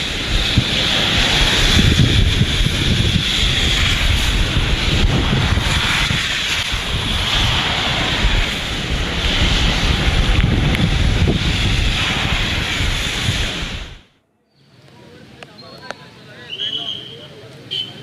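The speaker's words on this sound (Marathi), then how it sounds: "जोरदार वारा वाहतोय आणि अशा स्थितीमध्ये समुद्राला देखील उधाण आलेलं आहे" Strong wind and a rough sea off Mumbai during heavy rain make a loud, continuous roar of surf and gusts buffeting the microphone before it cuts abruptly to a quieter background.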